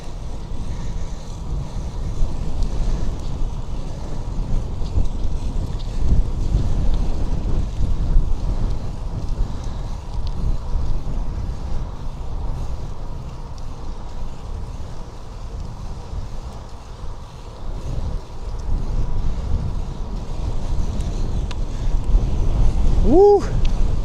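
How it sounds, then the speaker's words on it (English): Heavy wind rushing over the microphone while riding a fixed-gear bike through an urban area at sunset, a loud, steady roar that swells and dips throughout with no clear speech. "Wind."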